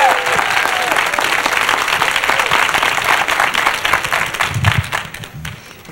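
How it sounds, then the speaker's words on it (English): Audience applause for speaker and corporate trainer Juanita Cribb fills the room, a dense, loud, sustained clapping that carries on steadily before easing slightly at the end. "Give her a better round of applause than that."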